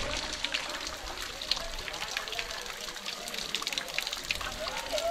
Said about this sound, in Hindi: वाटरफॉल का जो पानी है वो बहते हुए आ रहा है।